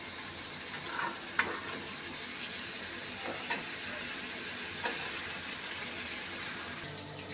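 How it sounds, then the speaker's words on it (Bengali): Prawns frying lightly in oil in a pan give a steady, moderate sizzle throughout, with a few sharp clicks of a utensil against the pan scattered through the middle. "আমার চিংড়ি মাছটা ভাজা হয়ে গেছে। আমি একটু হালকা ভেজে নিলাম, বেশি ভাজবো না।"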